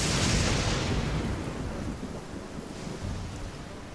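Thunder and lightning in the Genshin Impact video game: a loud, rumbling roar that is strongest at the start and then fades slowly, with a faint crackling swell near the end and no voices.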